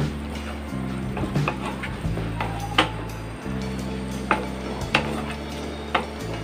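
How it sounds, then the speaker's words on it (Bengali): Chicken kosa stirred with chopped coriander in a pan on the stove, a spoon scraping and clinking against the metal in several knocks over a steady low hum of the burner. "দিয়ে এটা আমি ভালো করে এটা মিক্স করে নেব।"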